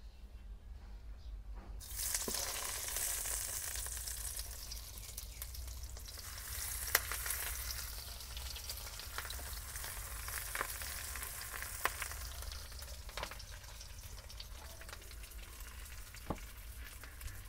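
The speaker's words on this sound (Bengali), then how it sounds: "এই পাতাগুলো আমি উল্টে পাল্টে ভেজে নিয়েছি।" Leaf-wrapped brinjal pathuri fries in oil in a wok. After a quiet first two seconds, a loud, continuous sizzle sets in with scattered sharp crackles and pops, and no one speaks.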